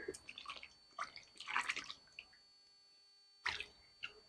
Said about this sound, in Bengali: এবার একটা পাত্রে নিয়ে নেব আর বেগুনগুলোকে ভালো করে ধুয়ে নেব